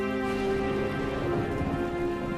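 Heavy rain pours steadily during a thunderstorm, a continuous dense wash with no voices, under a faint sustained tonal layer.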